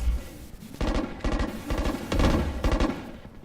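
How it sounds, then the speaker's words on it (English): Gunfire in the video game Valorant: several rapid bursts of close automatic shots fired through smoke, separated by short gaps, with no voices. "And a lot of gunfire, but they're just shooting through the smoke because there's nobody there on A site."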